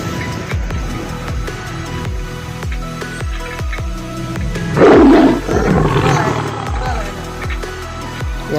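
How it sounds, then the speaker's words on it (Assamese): A tiger roars in the jungle of Manas National Park in Assam. A loud, close, rumbling burst rises over a steady low background hum midway through. "এইটো চাওক জংঘলৰ মাজত বম বাঘ"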